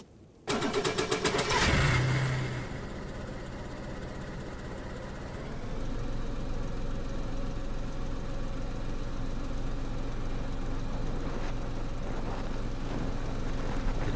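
A car engine starts up and settles into a steady, low rumbling drive over snow in the video game DayZ during a snowstorm, continuing throughout.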